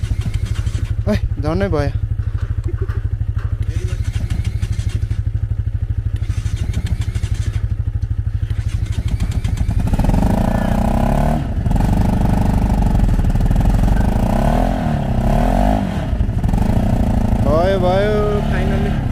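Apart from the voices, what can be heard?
motorcycle being started and idling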